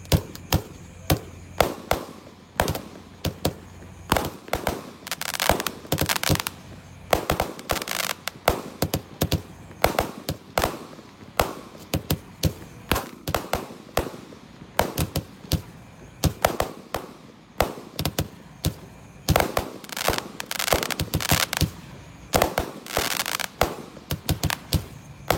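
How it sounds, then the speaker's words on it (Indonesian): A Basoka Roman candle 50-shot firework fires at night, a rapid, irregular string of sharp, loud pops and bursts that continues throughout with barely a pause. "Sudah menyala bosku. Basoka Romaine candle 50 shot."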